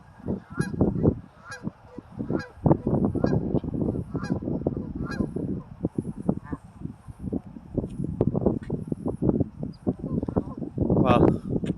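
Ducks in a park quack and honk loudly and repeatedly in a busy, overlapping flock, close by, with a voice talking intermittently among the calls.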